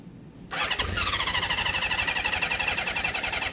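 Honda CB550 motorcycle engine sputtering on choke as it tries to start, a loud rough continuous churning with rapid irregular pulses after a sudden onset, close by with no talk.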